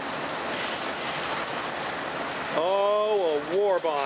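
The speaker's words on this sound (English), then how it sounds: "a BNSF intermodal arrived off the Red Rock sub with the catch of the day as the second unit." A BNSF intermodal freight train arrives off the Red Rock subdivision near Oklahoma City, a loud rumble of rolling cars joined by a blaring, wavering horn in the later part.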